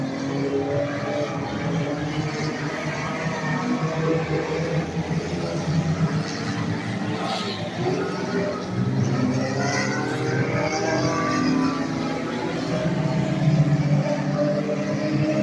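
Enduro race cars lap a speedway oval during a feature race, engines droning and rising in a continuous loud roar with shifting pitch as cars pass down the back straightaway.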